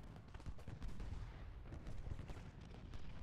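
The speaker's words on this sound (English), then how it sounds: "look at all those unison musket loading and firing" Dense musket volleys from Civil War infantry in the strategy game Ultimate General: Gettysburg, a continuous faint crackle of overlapping gunfire with scattered sharper reports, distant and steady without talk.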